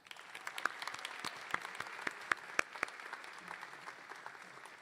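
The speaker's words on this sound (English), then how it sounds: "let's give a huge round of applause for our co-advisor" An audience at a collegiate honor society event claps for an advisor: a soft, fairly distant patter of many hands, with a few sharper individual claps standing out in an otherwise even round of applause.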